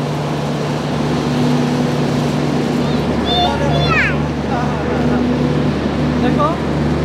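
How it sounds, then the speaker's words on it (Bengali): A train's engine runs at Khulna railway station while passengers board, a steady low mechanical hum with people talking over it and brief higher squeals partway through. "ট্রেনের ইঞ্জিন চলতেছে"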